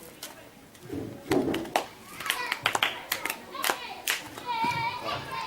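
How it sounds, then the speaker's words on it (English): Schoolchildren clap for a classmate in a classroom during a punctuation lesson, a few scattered bursts of hand claps over a steady murmur of kids' voices and talking. "Let us clap hands for him."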